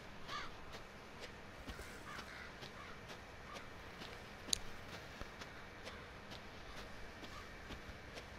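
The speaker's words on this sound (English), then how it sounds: "Oh, screw you, crows." Crows caw faintly in the distance in the Louisiana swamp of the video game Resident Evil 7, scattered over a low ambient hiss with a few soft ticks.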